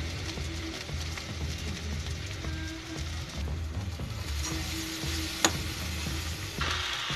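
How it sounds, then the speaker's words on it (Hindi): Tomatoes are stirred and fried for Indian masala pasta, giving a soft, continuous sizzle with low scraping from the spoon and one sharp click partway through. "अब हम इसमें डालेंगे टमाटर और हम इसे थोड़ा सा चलाएंगे थोड़ी देर तक।"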